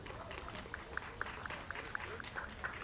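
Faint, distant crowd applause at a Bronx community centre launch event, a soft continuous patter of many hands with a few sharper claps poking through.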